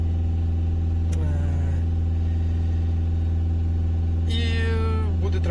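A car engine runs at a steady 2500 rpm while its soot particulate filter regenerates. It makes a loud, constant, close drone with a couple of brief higher whines over it, and no one speaks.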